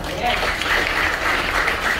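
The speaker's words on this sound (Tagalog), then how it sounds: "So, isa pang palakpak kay Lord." A church congregation applauds during a sermon, dense clapping from a crowd that fills the room steadily and fairly loud, with a voice or murmur faintly mixed underneath.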